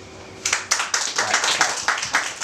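Audience clapping at a live comedy show starts after a quiet moment and grows into a scattered, fairly close run of claps that fades and swells without stopping.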